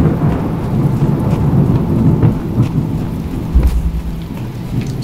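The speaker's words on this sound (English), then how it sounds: "Oh, it's starting to rain again." Rain and thunder in The Talos Principle video game, heavy steady rainfall with deep rolling thunder rumbling throughout, loud and close, no talk.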